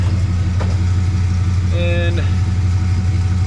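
A 1998 Dodge Ram 2500 with a V10 engine and Gibson exhaust idles with a steady, deep, even rumble close by, while someone speaks briefly over it.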